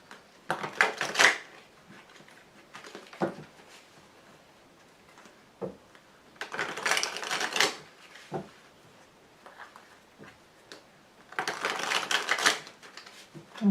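Tarot cards are shuffled and laid out in three separate bursts of papery riffling and slapping, each lasting a second or two, with quiet stretches in between.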